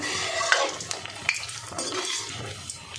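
Maggi noodle and egg chops fry in hot oil with oil spooned over them, giving a steady close sizzle with a few sharp spatters and utensil clicks, no talking.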